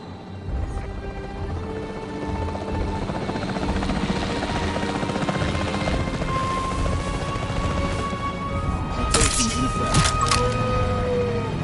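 The capture team helicopter in the video game Jurassic World Evolution 3 makes a continuous whirring rotor and engine drone that holds steady throughout, with brief metallic clanks and game effects rising near the end.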